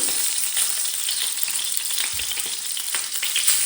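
Steady, loud sizzling of cheese pancake (syrnyky) batter frying in a hot pan, a continuous crackling hiss with small pops, no voices.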